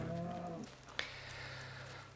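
Cows in Minecraft let out a low drawn-out moo that fades after about half a second, followed by a brief click and a quiet steady background hum.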